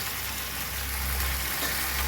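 Spiced food sizzling over low heat in an earthen clay pot, a steady soft frying hiss held close and even throughout with no talk.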